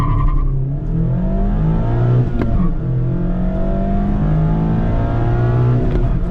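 A 2023 Mazda MX-5 Miata RF pulling hard under acceleration, engine pitch climbing repeatedly through gear changes, loud and close with a continuous exhaust drone.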